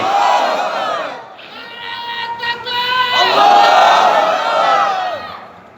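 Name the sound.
crowd chanting takbir (Allahu Akbar) at a religious gathering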